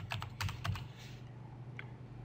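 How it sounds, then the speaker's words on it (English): Quick bursts of clicky keystrokes on a computer keyboard while entering a node name in a game engine editor, close and fairly quiet, stopping after about a second with room hush left. "and let's just type in"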